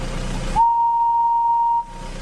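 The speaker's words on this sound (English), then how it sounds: "she blew her whistle as loud as she could" Emily the engine's steam whistle blown loudly, a single sustained steady toot of over a second, sharp and clear, standing alone between narration.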